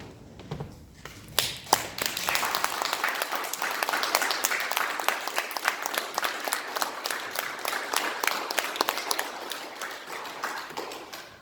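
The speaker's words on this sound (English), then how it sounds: "allow the rest of us to recognize and applaud you for your service" A church congregation at a Veterans Day service applauds military veterans who stand, with sustained, dense clapping that builds after a few scattered claps and carries on steadily to the end.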